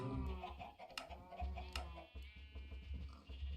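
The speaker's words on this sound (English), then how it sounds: "Good old golden chicken." A golden chicken in the video game StoneBlock 4 clucks repeatedly, close and fairly loud, over a steady bed of busy in-game sound.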